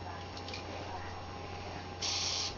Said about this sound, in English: from far back you can get a decent spray